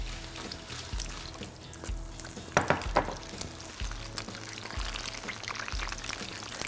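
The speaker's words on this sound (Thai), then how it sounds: "น้ำมันร้อนอีกรอบนึงแล้วเราก็ลงครับให้กรอบอีกครั้งนึง" Chicken wings going into hot oil for a second fry, giving a soft steady sizzle with occasional bubbling bursts and clatter, fairly quiet throughout.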